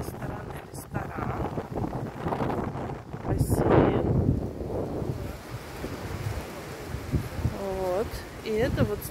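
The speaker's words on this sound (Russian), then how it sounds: "Сегодня ветерок такой прям дует." Wind gusting across a rooftop of an old seaside governor's house at Mount Lavinia, roaring and buffeting the microphone steadily, with a voice speaking over it.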